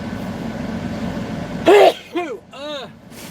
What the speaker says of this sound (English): I'm still sneezing.